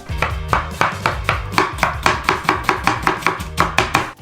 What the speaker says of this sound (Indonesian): kedua dengan memotong bawang